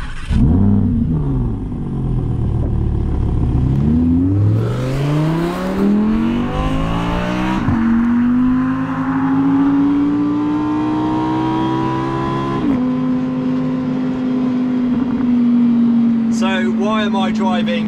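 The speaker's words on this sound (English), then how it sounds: "let's do that exactly and start the engine" An Audi R8 engine fires up with a loud bark, then revs rise and fall in smooth sweeps before settling into a steady high idle, close and dominant throughout.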